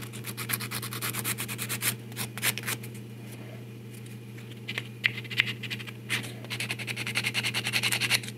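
A small rod being shaped into a pipe for a 1/4-scale custom Hellboy figure is scuffed with abrasive, giving a steady close rasping rub in quick back-and-forth strokes that pause briefly and pick up again.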